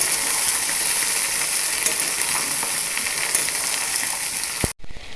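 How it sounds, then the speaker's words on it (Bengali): Jujubes tossed into a hot pan of oil with fennel seeds, bay leaf and two dried red chillies and stirred, giving a loud, steady sizzle that cuts off abruptly near the end. "কুলগুলো এবার দিয়ে দেবো, নাড়াচাড়া করে দেবো।"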